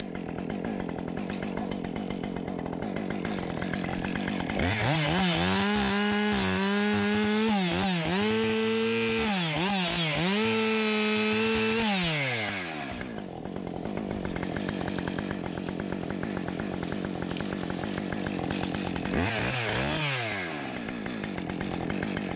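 A chainsaw cuts a red maple tree for firewood, with the engine droning loudly throughout and revving up under load during a long cut, then dropping back to idle before another brief rev.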